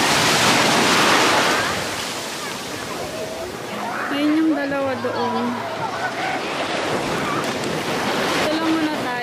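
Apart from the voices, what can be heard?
strong ocean waves on a beach in Shizuoka, Japan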